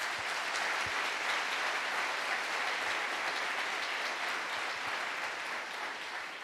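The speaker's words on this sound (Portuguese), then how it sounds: "Pode aplaudir a Jesus." A church congregation claps together in steady, dense applause at a revival service, a continuous wash of hand claps at moderate distance with no speech.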